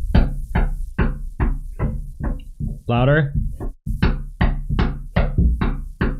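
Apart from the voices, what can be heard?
child banging on a door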